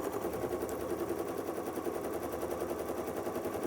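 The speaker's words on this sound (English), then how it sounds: "Now I can take this to the embroidery machine and I can stitch out a placement line for the applique shapes" An embroidery machine stitches out a placement line for appliqué shapes, giving a steady, fast mechanical chatter of rapid needle strokes that runs unbroken at a moderate level, with no voices.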